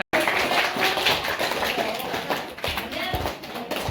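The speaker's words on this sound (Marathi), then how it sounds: "बस चालेल, टाळ्या वाजव ती." A brief burst of clapping from several children's hands in a school classroom on the last day of school, with talking voices mixed in over the claps.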